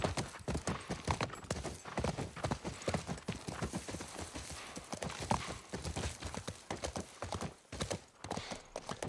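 Steady clip-clop of horse hooves trotting at a brisk, even rhythm, close and continuous throughout, in the video game The Last of Us Remake.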